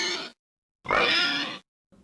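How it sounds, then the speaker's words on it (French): Short close grunts from a pig: a brief burst, a longer rough snort-like grunt, then the start of another. "porc"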